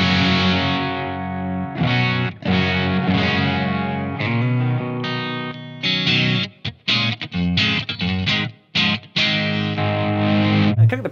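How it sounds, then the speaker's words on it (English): Distorted electric guitar played through a Blackstar AMPED-1 100-watt pedalboard amp, loud and sustained chords with harmonics, then choppy stabbed rhythm with short gaps, alone with no talk. "distortion tone, like what I've got right here"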